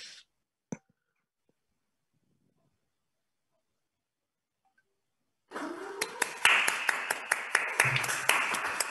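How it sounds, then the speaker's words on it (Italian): After a long near-silent stretch and one sharp knock, an audience at a hackathon awards ceremony breaks into sustained applause, with dense, lively clapping continuing steadily to the end. "Un applauso."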